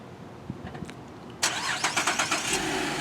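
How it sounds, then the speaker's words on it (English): A 2011 GMC Acadia SLT engine cranks over from remote start after a few faint clicks, catching abruptly and settling into a steady mid-pitched idle close by. "The car starts up."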